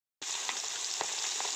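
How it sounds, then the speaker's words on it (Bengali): Katla fish heads sizzle in hot oil: after a brief silence a bright, continuous frying hiss starts abruptly, with a few soft pops and stirring knocks, close and steady. "এই তেলের মধ্যে আমি এখন মাছের মাথাগুলোকে ভেজে নেব, কাতলা মাছের মাথাগুলোকে লাল।"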